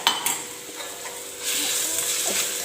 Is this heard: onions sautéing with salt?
yes